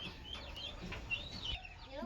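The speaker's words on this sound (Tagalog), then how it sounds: "Ito yung isang manok naglilimlim na" A broody hen sitting on a clutch of eggs clucks steadily at close range in a backyard flock kept with ducks, with thin high chirps from other birds over a constant hum.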